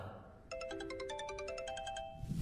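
A phone ringtone in an animated series plays a quick, bright repeating electronic melody of short beeping notes, clear and close, starting after a brief pause with faint background noise.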